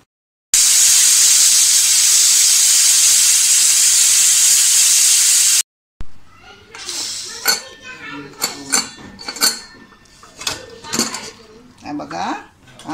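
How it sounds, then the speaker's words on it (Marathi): A pressure cooker on the stove, cooking masoor lentil rice, lets out one long, loud, hissing steam whistle lasting about five seconds. After it stops, there is a brief silence, then clinking pots and utensils in the kitchen. "आपण 2 शिट्या होईपर्यंत वाट बघूया."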